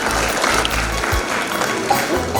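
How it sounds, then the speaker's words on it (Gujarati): Audience at a school annual function claps for a prize winner, a dense, steady wash of applause from a large crowd that runs continuously, with faint voices mixed beneath. "ખૂબ જ તાળીઓથી વધાવીશું."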